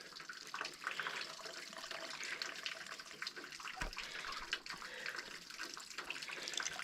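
Mountain spring water runs steadily from a natural source outdoors, a continuous close splashing and trickling wash with no voices.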